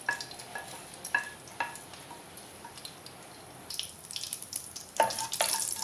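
Asafoetida, nigella, mustard, cumin and fenugreek seeds sizzling in two tablespoons of oil in a cooker, a faint crackle with soft spoon taps that swells louder toward the end.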